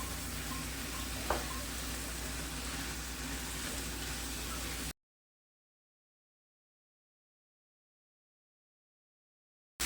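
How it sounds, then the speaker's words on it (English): Mushrooms hitting a hot pan and frying, a soft, steady sizzling hiss with a faint tap near the start, lasting about five seconds before cutting to silence. "I'm adding my mushrooms right now."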